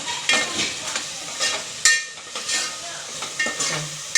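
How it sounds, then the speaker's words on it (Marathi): Onion, tomato and ginger-garlic paste frying for a vegetable biryani: a steady sizzle broken by regular stirring strokes and scrapes in the pan, close and without speech. "बिर्याणीसाठी हा फ्राय झालेला"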